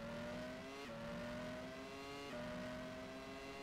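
A Formula One car in rFactor 2 accelerates out of Luffield corner at Silverstone, its high-pitched engine climbing steadily in pitch through two quick upshifts, loud and continuous with no speech.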